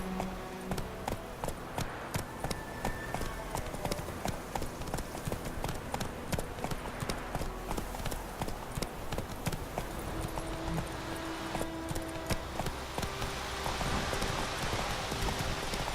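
Roach the horse gallops in The Witcher 3: Wild Hunt, a steady, loud clip-clop of hooves running throughout over a busy game soundscape.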